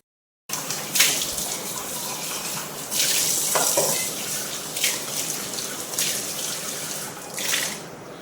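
Tap water runs steadily as a grinder jar gets rinsed in a kitchen sink, with splashing bursts and clinks where the jar meets the stream, continuous and close.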